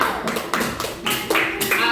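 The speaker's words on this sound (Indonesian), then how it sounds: "tepuk tangan dulu untuk kita semua" Hands clapping together in a classroom, a fairly close burst of applause running the whole two seconds with uneven bursts, mixed with voices.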